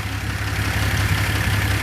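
An old Rambler car engine idles roughly with the number 5 spark plug wire pulled, a steady low rumble with an uneven, misfiring pulse, close and alone.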